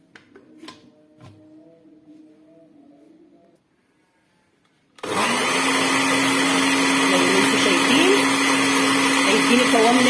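After a short quiet stretch, a blender suddenly roars to full speed grinding sesame seeds into raw tahini, loud and steady to the end, preceded by brief faint kitchen clinks.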